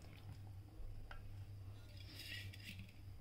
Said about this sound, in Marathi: आणि बदामाचे तुकडे हे आपण आता हलवून घेऊ